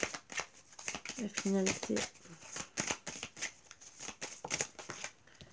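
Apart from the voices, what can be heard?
tarot cards being shuffled and drawn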